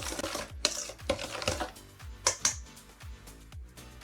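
Muffin batter with buttermilk is mixed by hand in a bowl, producing a close, rhythmic series of wet scraping strokes and light taps on the bowl, roughly two per second.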